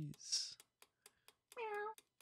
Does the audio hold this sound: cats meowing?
yes